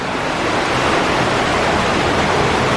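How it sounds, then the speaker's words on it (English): Water rushes hard through a cave as a dense, constant roar that fills the space, loud and close, with no voices over it. "The water is flowing really hard."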